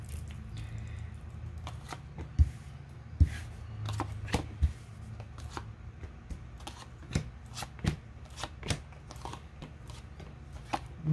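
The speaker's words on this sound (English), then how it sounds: "let's go ahead and cut the deck and get into your message" A deck of tarot cards is cut and shuffled by hand, with soft riffling and repeated sharp slaps and taps of the cards at an uneven rhythm, close and fairly quiet.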